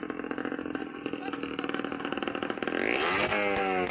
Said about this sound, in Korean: 오토바이 배기음이 들려와서